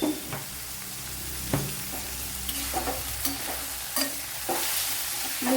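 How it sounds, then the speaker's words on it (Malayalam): A spoon stirs fish coated in masala, with coriander powder, in a hot pan for a Kerala fish pollichathu, giving close, steady scraping and light sizzling with a few sharper knocks against the pan. No one talks. "നല്ലപോലെ ഒന്ന് ഇളക്കി കൊടുക്കാം"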